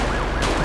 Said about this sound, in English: I think we have a police car coming as well